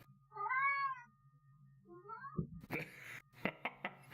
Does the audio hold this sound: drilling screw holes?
no